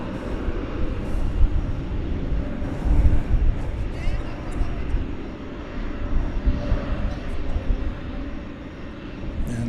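An airliner taxiing at DFW Airport at night, turning right toward the 17 runways for takeoff, gives a steady, distant broadband engine rumble that swells and eases slightly without pause.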